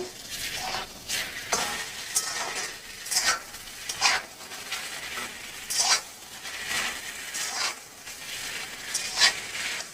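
Papaya with salt being stirred in a pan, a steady sizzle under repeated scraping strokes of a spoon against the metal, about a dozen sharp scrapes at an irregular rhythm, close and clear with no talking.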